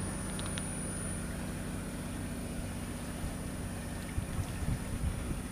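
A sailboat motors past Cap Lardier on the Mediterranean coast under engine power, giving a steady low drone that runs throughout, with wind buffeting the microphone and a few louder bumps near the end.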